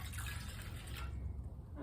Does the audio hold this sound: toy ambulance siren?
no